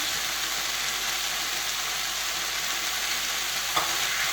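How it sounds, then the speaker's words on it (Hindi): Ketchup being stirred into a pizza-bite filling in a pan, a steady close sizzle of frying with soft stirring scrapes throughout and one brief clink near the end. "और इसको अच्छे से मिक्स कर लेंगे।"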